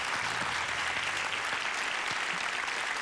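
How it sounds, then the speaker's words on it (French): Studio audience on a French family game show applauding steadily, a dense, even wash of clapping that fills the whole stretch at moderate distance with no talk over it. "Nous les applaudissons. Bravo."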